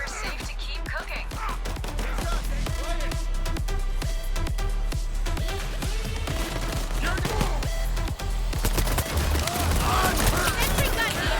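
Rapid bursts of sentry gun gunfire in the heist video game Payday 3, loud and continuous throughout with dense crackling shots and impacts layered over game sounds.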